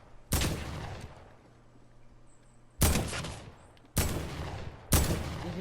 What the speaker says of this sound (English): you can actually shoot people without having to aim